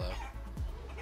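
A chicken character in the video game Guacamelee gives a brief, close cluck, heard alone over a steady background.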